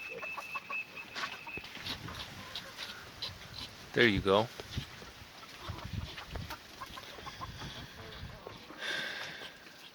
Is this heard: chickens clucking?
yes